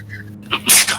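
A single sharp sneeze bursts out close by over a low background hum.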